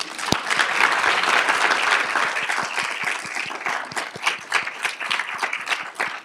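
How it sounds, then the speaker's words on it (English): A colloquium audience gives a sustained round of applause, dense and steady throughout, with individual sharp claps standing out near the end. "I want to give them a round of applause now"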